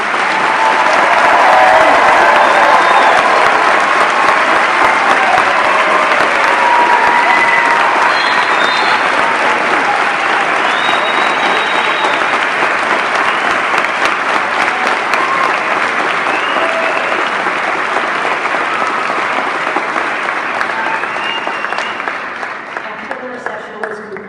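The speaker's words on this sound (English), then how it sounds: "Please join me in one more round of applause for the class of" Sustained audience applause at a medical school white coat ceremony, loud and dense from many hands, holding steady for over twenty seconds before slowly thinning toward the end, with faint voices mixed in.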